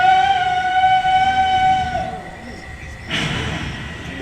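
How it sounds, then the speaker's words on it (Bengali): A passenger train pulling out of a station: a sustained tonal horn or whistle sounds loudly, then gives way to a lower rolling rumble and clatter of carriages as it gets moving. "আমাদেরকে নিয়ে ট্রেন ছাড়ল।"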